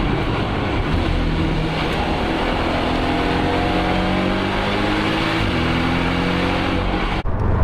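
A Porsche 718 Boxster's flat-four engine pulls hard while driving, loud and close, with rising harmonic sweeps as revs climb through the gears and a brief dip at each shift, rumbling steadily alone with no talk.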